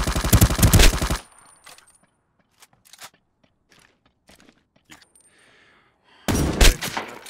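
Two loud bursts of rapid video game gunfire open and close a battle in a multiplayer shooter, with scattered faint shots, footsteps and clicks filling the quieter stretch between.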